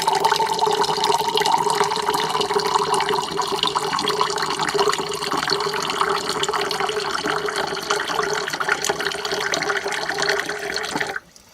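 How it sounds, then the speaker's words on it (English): UV-purified water runs steadily from an RV faucet into a 12-ounce glass. The stream stays loud and constant for about eleven seconds, then stops abruptly. "Let's see how long it takes to fill a glass."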